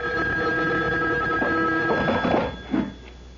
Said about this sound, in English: The phone. At this hour?